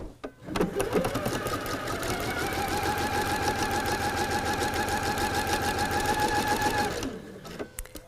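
A sewing machine stitches a pieced quilt block for a kaleidoscope-style star block, running steadily and loudly for about six seconds with a fast, even mechanical whir before stopping.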